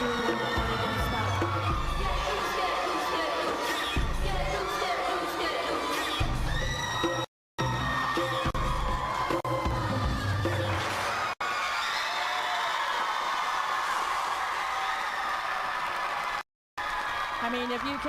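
A packed cheerleading competition crowd roars after a senior hip-hop routine, loud sustained cheering, whooping and applause with an announcer talking over it, broken by two brief dropouts.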